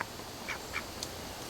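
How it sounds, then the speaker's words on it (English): A duck quacks in a backyard, three or four short, bright calls spaced apart over steady outdoor background hiss. "Duck just came up to say hi."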